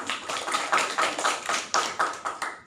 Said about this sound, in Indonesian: berikan tepuk tangan untuk saudari ini